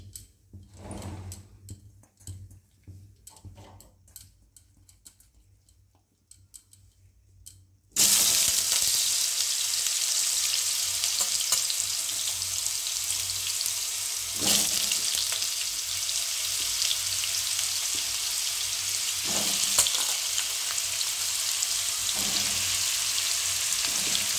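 Jackfruit dropped into hot oil in a wok sizzles suddenly after quiet kitchen handling, then a loud, steady frying hiss continues with occasional crackles and stirring knocks.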